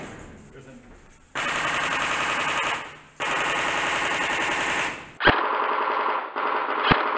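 Airsoft guns fire long rapid automatic bursts during an outdoor airsoft game, loud and close, with brief pauses between strings and a couple of sharp single cracks near the end.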